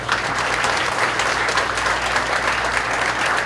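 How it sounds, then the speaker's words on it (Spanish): An audience at an environment and circular economy symposium applauds to welcome visitors, dense continuous clapping from a large crowd at steady volume throughout, with a low hum underneath. "démosles una cordial bienvenida a nuestros visitantes con un aplauso"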